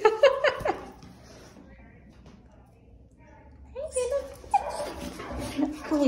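A large dog whimpers and yips in high, thin bursts at the start and end, close to the mic, with a quieter stretch in between and a person talking softly nearby.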